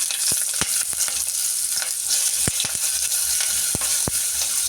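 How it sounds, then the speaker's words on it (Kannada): Half an onion frying in hot oil with mustard seeds, a continuous bright sizzle broken by sharp popping crackles and utensil taps, nearby and without speech. "ಇವಾಗ ಒಂದು ಅರ್ಧ ಈರುಳ್ಳಿ ಹಾಕೋಣ."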